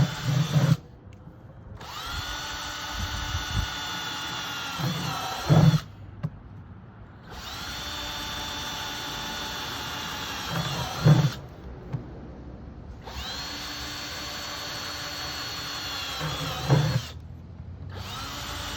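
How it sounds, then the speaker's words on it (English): Power drill with a 1/2-inch bit boring drainage holes in a 5-gallon plastic bucket, heard in three loud whirring bursts separated by brief pauses, each ending in a short clunk, with no talking. "a drill, 1/2-inch drill bit, put some holes in here"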